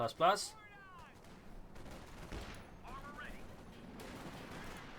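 Gunfire in a Company of Heroes 2 match, OKW against USF: a loud close burst at the start, then scattered fainter shots and distant battle noise under a commentator's voice.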